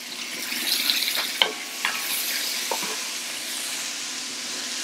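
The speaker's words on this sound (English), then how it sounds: "I'm going to add the onions. And again, I'm talking about layers of flavor. I'm going to get these a little brown." Onions browning in hot fat in a pot for braised short ribs, a loud steady hiss with a few spatula scrapes and knocks early on.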